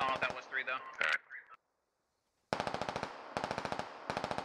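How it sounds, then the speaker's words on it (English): Gunfire in the military shooter game Squad: rapid bursts of sharp automatic shots, loud and close, with a short silent gap, following a stretch of speech. "there are shots coming out from my west from three's direction"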